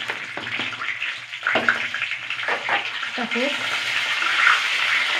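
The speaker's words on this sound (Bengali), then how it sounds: "জলটাও দিয়ে দিলাম" Water pouring into a cooking pot, a continuous rushing splash that builds slightly over a few seconds, with someone speaking briefly over it and a few clinks of utensils.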